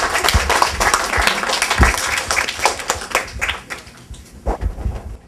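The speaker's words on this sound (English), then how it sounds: "Let's give a big round of applause." Applause from an audience of children at a mock election civics event, dense clapping that starts loud and close, then thins out and fades into scattered claps over about five seconds.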